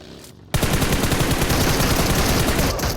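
Sustained automatic gunfire in the mobile shooter PUBG Mobile, a loud, dense rattle of rapid shots that starts abruptly after a short quiet moment and continues without break.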